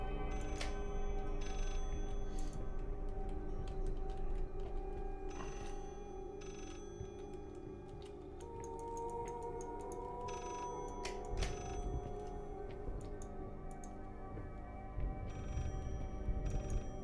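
A telephone rings somewhere within the Layers of Fear video game, its bell tones repeating steadily at moderate volume over a dense, murky ambient backdrop for the full length.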